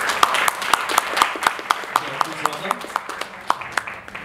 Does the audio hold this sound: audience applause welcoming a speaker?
yes